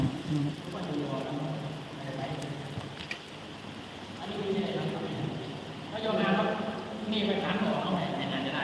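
Rain falling steadily outdoors during a rooftop solar panel installation, a soft broad patter that swells louder toward the end, with someone talking over it.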